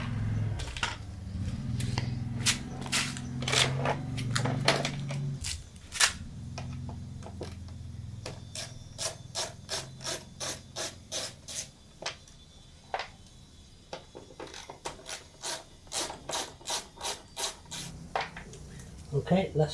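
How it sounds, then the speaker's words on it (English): Phillips head screws being backed out of a Honda PCX 150 body panel with a screwdriver, a run of short, regular scraping clicks and ratchet-like ticks, close and fairly quiet, with a low hum underneath in the first seconds. "we need to take that off with the screwdriver. There's 7 screws, Phillip head screws all the way around"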